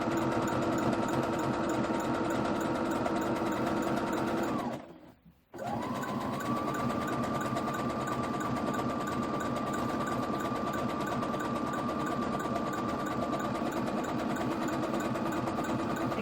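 A sewing machine overcasts the raw edge of skirt fabric in a steady, rapid mechanical whir that runs continuously, pauses briefly once, then resumes at an even pace with no talking.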